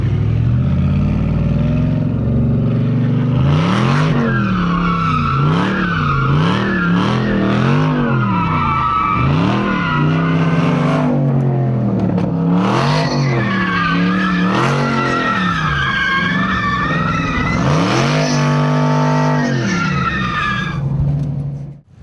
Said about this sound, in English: Let's go for a ride in a brand new Charger Hellcat.